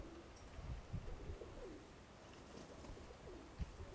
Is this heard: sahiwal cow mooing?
no